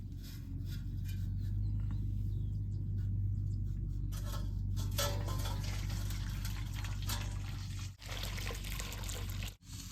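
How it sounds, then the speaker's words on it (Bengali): Hot water is stirred in a pot to cool it down for making kasundi mustard sauce, with soft close sloshes and trickles over a steady low background hum. "জলটা এরকম নেড়ে নেড়ে সুন্দর করে জুড়িয়ে তার কাসন্দটা বানান লাগবো"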